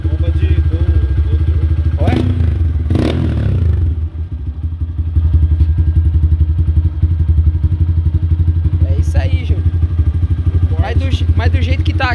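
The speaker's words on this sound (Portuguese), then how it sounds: "Você tá ouvindo a turbina, ó? Essa moto aqui é supercharger," A Pop 128cc motorcycle fitted with a supercharger turbine idles loudly and close by with a steady rumbling drone. There are sharp clattering bursts early on and brief whining surges later, and someone speaks over the engine.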